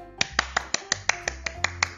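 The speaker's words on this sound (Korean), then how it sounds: "박수 한번 칠까요?" About ten crisp, sharp claps come in a quick, evenly spaced rhythm, close and clean, with no talking.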